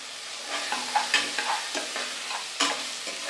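Tomato, mint and coriander sautéing for chicken biryani, with a steady sizzle broken by a series of spoon scrapes and stirs at irregular intervals, close and moderately loud, no talking.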